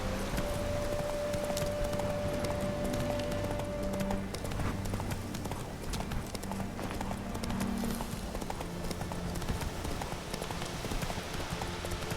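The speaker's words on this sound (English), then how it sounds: "Whoa there, Roach." Horse hooves clip-clop in a steady trotting rhythm in The Witcher 3: Wild Hunt, close and continuous, with a faint patter like rain and game ambience underneath.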